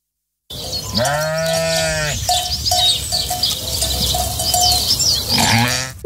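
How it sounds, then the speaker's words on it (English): A sheep bleats loudly and close, with long wavering calls and a string of shorter pulsed bleats in between, alone with no talk. "Sheep."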